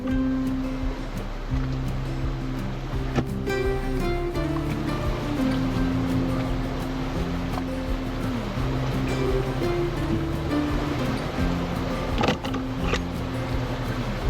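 Steady rushing water from a river near a waterfall in Vinton County, a continuous broadband wash heard alone with no talk.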